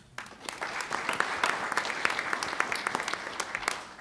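Audience applauding award-winning middle school students at a school board meeting, a steady dense patter of many hands clapping close by for about four seconds with no talking.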